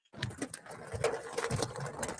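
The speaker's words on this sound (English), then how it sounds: "But listen to this. Heavy hail." Heavy hail pounds the sheet metal of a car in a rapid, dense rattling drumming that starts abruptly and keeps up steadily, fairly faint, with no voices.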